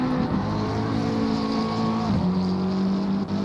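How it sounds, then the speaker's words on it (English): Pfaff Motorsports number 41 McLaren GT3 race car leaving pit lane at the Hungaroring in Assetto Corsa Competizione, a loud steady engine drone that drops in pitch with a gear change partway through, no talk. "There's Parker leaving the pit lane in the Pfaff Motorsports 41 McLaren"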